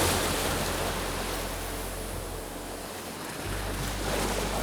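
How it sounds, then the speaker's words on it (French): Surf rolls onto the shore of the Acadian Peninsula in New Brunswick, a broad steady wash of wave noise with a slight dip and swell in loudness, mixed with wind rumble and no talk. "écoute les vagues"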